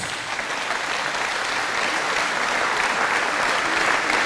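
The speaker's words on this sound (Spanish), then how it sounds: "Fuertes aplausos a Jesús." Dense, steady applause from a church congregation during a sermon, a continuous wall of clapping throughout.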